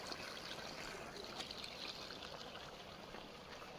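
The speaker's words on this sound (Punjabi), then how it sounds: "ਜੇ ਮੈਂ ਥੋੜਾ ਜਿਹਾ ਚੁੱਪ ਕਰਦਾ ਤਾਂ ਤੁਹਾਨੂੰ ਇੱਥੇ ਪਾਣੀ ਦੀ ਆਵਾਜ਼ ਵੀ ਆਉਗੀ" A mountain stream flows steadily near a village, making a continuous, even rush of water that fills the whole stretch with no voices or other sounds on top.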